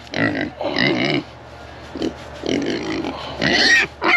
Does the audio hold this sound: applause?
no